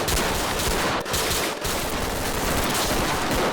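Rapid automatic gunfire rattles almost without pause in a Roblox shooting game, loud and close, with two brief gaps in the barrage.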